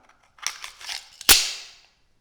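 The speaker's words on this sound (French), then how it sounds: "J'insère donc le chargeur d'origine dans l'arme." A magazine goes into an HK P9S 9 mm pistol with a few soft metallic scrapes, then one sharp, close click as it seats. No one talks.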